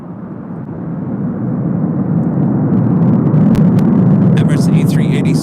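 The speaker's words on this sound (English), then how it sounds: "Saw that LATAM Airlines 767-300ER. This flight heading to Lima, Peru. Now heading for a north side departure." A LATAM Airlines Boeing 767-300ER jet departing LAX, a loud, broad roar of jet engines building over several seconds at takeoff power, heard from nearby with a voice talking over it near the end.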